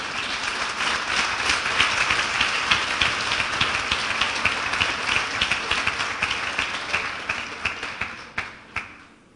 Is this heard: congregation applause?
yes